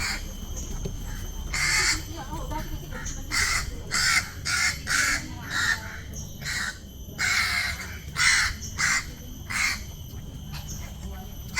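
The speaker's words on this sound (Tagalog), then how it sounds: "Crow." Repeated crow caws ring out in loud bursts across a wetland reserve, spaced irregularly over steady background noise, with other birds calling faintly nearby.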